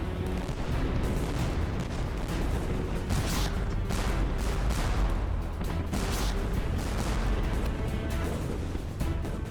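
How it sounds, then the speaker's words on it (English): Naval cannon gunfire from the combined French and Spanish fleet at the Battle of Trafalgar, a dense, continuous thunder of overlapping booms and blasts rolling without pause. "gunfire from the combined fleet builds to a steady thunder"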